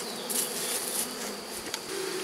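Honeybees buzz around an opened hive during a colony check, a steady close insect hum with a few brief louder passes, no talking.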